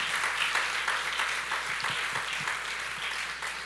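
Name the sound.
church congregation applauding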